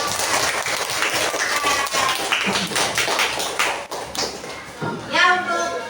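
Students in a classroom applaud a student group, a loose patter of clapping and tapping mixed with voices and talk throughout.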